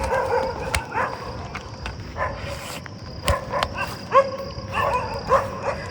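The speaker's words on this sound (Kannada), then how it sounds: "ಬ್ರೋ ಒಳಗೆ ನಾಯಿ ಮೇ ಬಿ ಒಳಗಡೆ ಗಾರ್ಡ್ ಥರ ನಾಯಿ ಏನಾರು ಇಟ್ಬಿಟ್ಟಿದ್ದಾರೆ" A guard dog kept inside a house barks in scattered bursts, sounding somewhat muffled and set back from the listener against a steady background hum.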